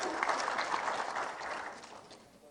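Audience clapping after a remark in a fiery speech by a journalists' union president, a dense burst of applause that holds briefly and then fades out.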